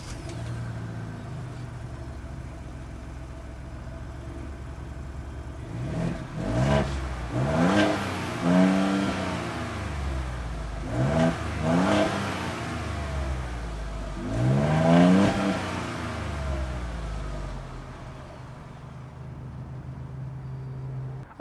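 A new Ford Bronco engine idles, then revs up sharply three times, each rise and fall clearly heard close by from the rear of the vehicle before settling back to a low idle.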